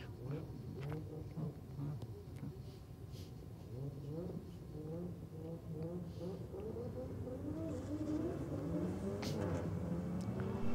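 Nissan Skyline R32 drag racing a BMW down the strip, the engines a steady mid-distance roar that slowly swells louder across the run, with a commentator talking over it throughout.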